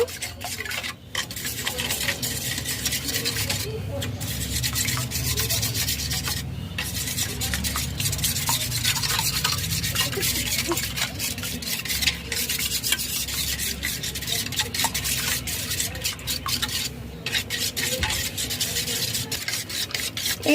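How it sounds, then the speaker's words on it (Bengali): A spoon beats three eggs with salt and pepper into a smooth batter for fried fish, a steady scraping, rubbing rasp against the bowl that runs continuously and close by with no voices. "ভালো করে চামচ দিয়ে ফেটিয়ে নেব"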